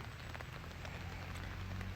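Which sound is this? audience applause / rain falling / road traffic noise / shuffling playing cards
rain falling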